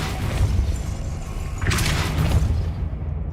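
A Depulso spell striking in the video game Hogwarts Legacy: one sudden whooshing boom bursts out of a low rumbling background, then fades away.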